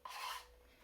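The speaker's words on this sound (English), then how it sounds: "This that you can hear scraping, I put it into a container" Paint being scraped off a surface into a container: a short, bright rasping scrape lasting under half a second, close and fairly faint, followed by quiet.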